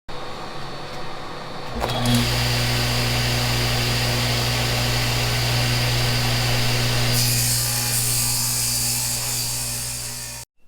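A power saw rips a long cut through a plywood sheet for a crosscut sled fence, starting after a short quiet lead-in and running as one loud, steady whine for about eight seconds before spinning down. No one speaks.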